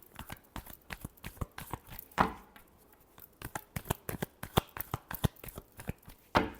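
Tarot cards riffle and snap in a steady run of sharp, close clicks and flutters, with a couple of louder bursts at the end of each pass and brief pauses between.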